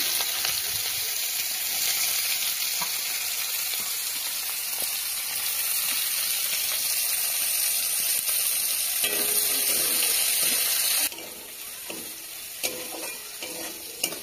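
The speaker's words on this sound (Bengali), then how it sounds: "এরপর আমি কেটে রাখা পেঁয়াজগুলো দিয়ে দিচ্ছি।" Chopped onions fry in hot oil with cumin seeds for a chicken curry, producing a loud, continuous close sizzle with stirring scrapes; the hiss shifts and brightens near the end.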